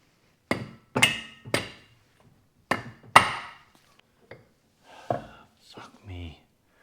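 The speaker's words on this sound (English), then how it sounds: "rubber mallet." A rubber mallet strikes a BMW E46 axle in a series of dull, close thuds, a few spaced blows then a quick pair, with soft muttering between hits.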